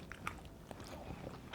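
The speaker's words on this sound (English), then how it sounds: "You can hear the crunch." Biting into crunchy buttermilk fried chicken coated in flour and cornstarch, a few sharp crisp crackles up close followed by quieter chewing.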